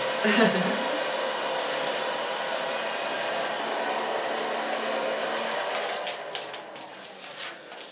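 A hair dryer blows steadily on hair at a salon cut-and-color session, a loud continuous close-up whoosh that runs the whole time, with faint handling sounds near the end.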